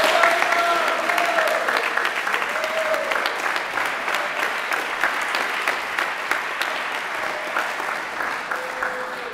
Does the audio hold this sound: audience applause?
yes